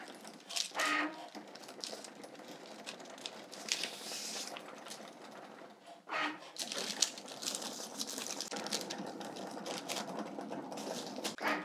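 Cricut cutting machine slicing through vellum paper, a steady mechanical whirring and scraping with repeated louder bursts of carriage movement, continuous and close throughout.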